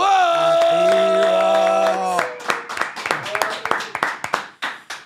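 Studio audience claps to welcome a music guest on a talk show, a few scattered then uneven claps following a tonal music sting, with voices briefly heard.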